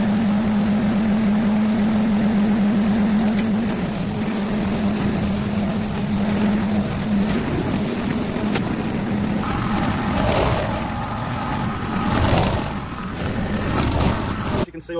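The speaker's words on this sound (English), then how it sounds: "we're just going to mow over these and hopefully suck up." A lawn mower drones steadily and loudly while mowing over weeds and seed heads at an overgrown abandoned ruin, its engine tone shifting as it cuts through thicker growth.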